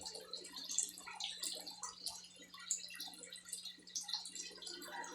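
Water runs continuously into a concrete tilapia pond, a faint, steady trickle and splash with soft drips scattered throughout and a low hum underneath.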